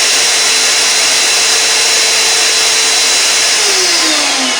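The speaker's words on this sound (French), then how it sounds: "Que l'aspirateur s'arrête." A shop vacuum runs steadily, loud and broadband, hooked up to a homemade stationary sander, with a tonal whine that drops in pitch near the end as the motor begins to spin down.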